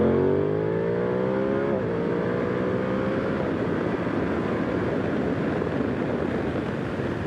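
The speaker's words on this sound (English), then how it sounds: "second to third, not the smoothest in the world, but a lot better when you're really opening up the throttle" An Aprilia Tuono 660 Factory motorcycle (2025/2026) revs up hard in second gear, its engine note climbing steadily before a brief dip at the shift into third, then pulling on loud and close under continuous acceleration.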